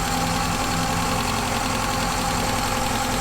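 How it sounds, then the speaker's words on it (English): A Ford Fiesta MK2 XR2 engine idling smoothly, heard up close as a steady, even hum with a faint regular pulse and no talk over it. "Everything in the engine bay is miles more smooth than it was before."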